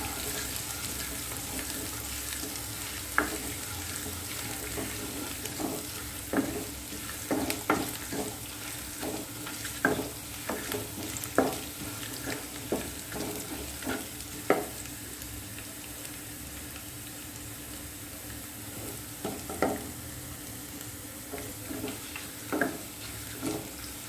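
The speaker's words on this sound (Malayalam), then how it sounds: "വെളുത്തുള്ളി ഇഞ്ചി നല്ലതുപോലെ ഫ്രൈ ആയിട്ടുണ്ട്" Crushed garlic and ginger fry in a pan for a paneer and peas curry, giving a steady low sizzle with scattered sharp clicks and scrapes of stirring throughout, moderately quiet and close.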